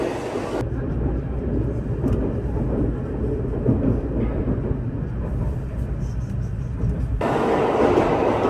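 Inside a Shinkansen bullet train departing Tokyo for Nagoya, a steady low rumble and hum of the carriage fills the cabin, shifting in tone as the train gets under way.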